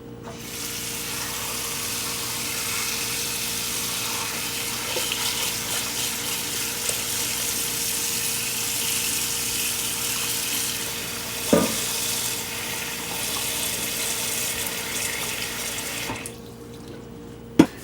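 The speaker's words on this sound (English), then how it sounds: "all we got to do is fill up our pot with water" Tap water runs steadily into a cooking pot in a home kitchen, a constant close rushing stream with a couple of small clunks, cutting off abruptly near the end.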